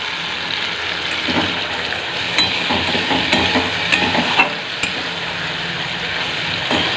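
Ground spice paste, loosened with a little water, fries in a pan for a dhoka curry. It makes a loud, steady sizzle close by, with the scrape of a spoon stirring now and then.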